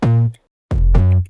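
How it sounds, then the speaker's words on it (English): Two punchy, deep sine-wave synth bass notes made in Serum, with a slightly distorted buzzy edge, separated by a short silence. "It's just like this really fat, kind of punchy sine wave thing that I made in Serum."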